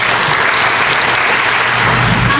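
Audience applause after a Bharatanatyam arangetram dance performance, a dense, steady roar of many hands clapping close by and loud throughout, with no voices standing out.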